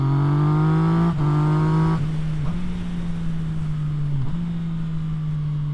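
A motorcycle engine holds a steady drone, then downshifts with sharp dips in pitch and accelerates again, heard close and loud with no voices.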